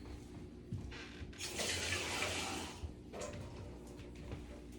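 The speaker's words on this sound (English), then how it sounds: "I'm going to put enough water in it until it covers the roast up." Water poured into a cooking pot over a beef roast until it is covered, a faint, steady splashing rush that swells in the middle and then settles into a quieter trickle.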